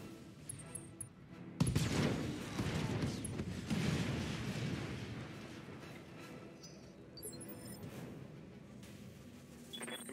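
Mech weapons fire in the BattleTech video game: a burst of dense, rumbling autocannon-style shots starts abruptly and rolls on as continuous loud gunfire, easing into a steadier background barrage toward the end.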